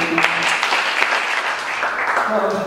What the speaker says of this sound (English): It's a good sign they're applauding you